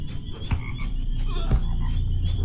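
Toad croaks in a Lord of the Rings video game, low repeated calls in a steady run over a murky ambient bed, with stronger bursts near the half-second and one-and-a-half-second marks.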